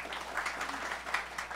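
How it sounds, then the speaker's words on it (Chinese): Moderate applause at a legislative committee hearing, a steady patter of many hands clapping in a meeting room, fairly quiet and uniform throughout. "掌声很大"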